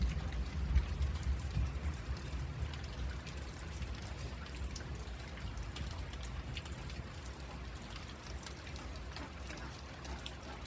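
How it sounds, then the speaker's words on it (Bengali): Heavy, continuous rain pours around a flooded house, a dense steady hiss of drops drumming on surfaces with a low rumbling undertone and no talking. "বাড়িটা একদম পানিতে ভরে গেছে, বৃষ্টি থামার কোনো নামই নেই।"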